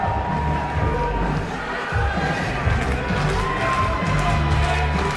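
Wrestling crowd on its feet in the Great Hall, a steady, dense roar of cheering and chatter with scattered shouts and claps, continuous and fairly loud throughout, with talk mixed into the din.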